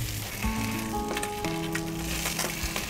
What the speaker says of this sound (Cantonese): 我哋將呢一半條魚放落去煎